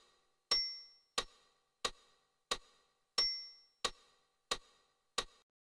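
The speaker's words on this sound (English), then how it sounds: "you're going to hear a steady beat. The first beat of this pattern is always a bell." A steady beat of eight evenly spaced sharp metallic ticks, the first and fifth ringing out longer like a bell chime, clear and isolated against silence.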